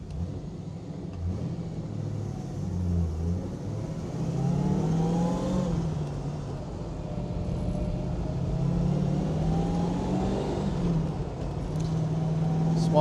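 1970 Chevrolet Camaro Z28 with a small-block engine and four-speed gearbox, driving with a steady low rumble that rises and falls as it accelerates through the revs, heard from inside the car without speech.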